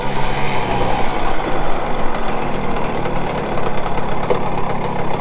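A Simson SR2 moped engine idles steadily up close, a continuous loud rumble with a fast, even putter throughout.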